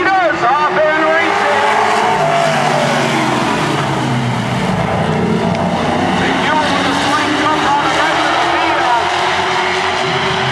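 A pack of modified race cars roars off at the start of a race, a loud and continuous blend of rising engine whines, while a voice talks over the din.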